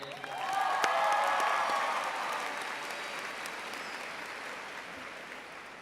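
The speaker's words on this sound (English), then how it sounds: "can we just have one more round of applause for all the family, friends, faculty, teachers, and CFISD staff" A large crowd at the Cypress Ridge High School class of 2018 graduation ceremony claps in sustained applause that swells quickly, then slowly thins and fades, heard at a distance in a big hall with a faint whistle early on.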